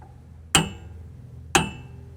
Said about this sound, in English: the way I was taught to check U-bolts by the old guys is to hit them with a hammer